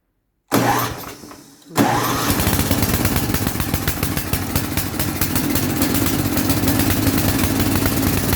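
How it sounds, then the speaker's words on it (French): A small gasoline snow blower engine is pulled into life with the choke set, coughing briefly, catching, then settling into a loud, steady, rapid-firing run close by. "si je mets trop de choke, le moteur étouffe"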